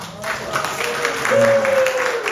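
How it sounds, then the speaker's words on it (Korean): A church congregation gives a short burst of applause at an early-morning prayer service, with clapping rising over a few seconds as the preacher's voice carries on beneath it. "박수 한번 해주십시오."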